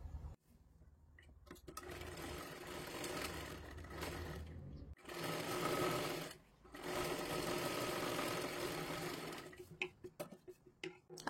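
A sewing machine stitches blouse fabric in bursts: fast whirring runs of needle strokes broken by short pauses, close and clear, with faint ticks and handling noises in the gaps.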